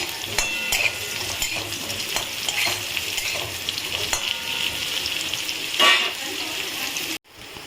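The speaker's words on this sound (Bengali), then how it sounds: "আলুটা ভাজা হয়ে গেছে" Potatoes frying in oil with a continuous close sizzle, punctuated by scraping stirs and metallic clinks of a spatula against the pan.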